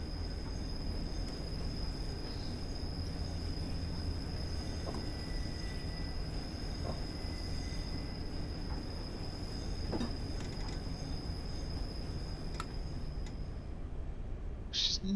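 A simulated train in Train Sim 2015 labours up a steep slope out of a tunnel toward a platform, with a continuous low rumble, steady mechanical drone, and scattered faint wheel squeals and clicks.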